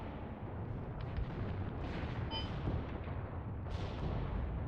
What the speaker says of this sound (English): The mortar has done its job as well already. Very quick firing, we can see the impacts here.